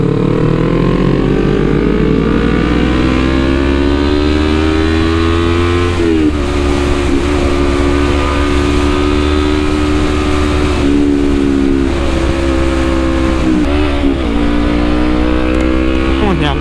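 Motorcycle ridden through Jakarta streets, its engine droning steadily close to the microphone with shifting pitch as it revs and changes gear, loud and continuous under road noise.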